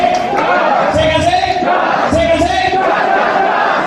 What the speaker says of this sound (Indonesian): tepuk tangan buat Bapak Ibu